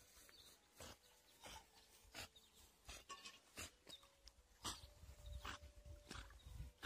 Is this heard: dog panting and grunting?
yes